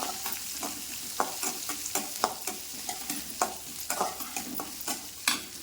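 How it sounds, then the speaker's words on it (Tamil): Onions with cumin seeds sautéing in a pan for a rajma (red kidney bean) curry masala, with a spoon stirring and scraping in repeated close strokes over a steady soft sizzle, no voices. "வெங்காயத்தை நல்லா வதக்கலாம்"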